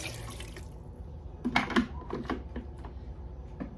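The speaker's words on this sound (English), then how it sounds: "We're going to add some water" Water is poured into a pot of green okra soup being cooked at home, a splashing, gurgling pour with a few sharp clatters near the middle, fairly quiet overall.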